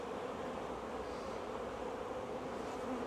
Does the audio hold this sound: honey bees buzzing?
yes